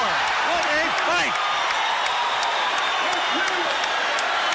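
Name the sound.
boxing crowd cheering at end of Leonard vs Hearns fight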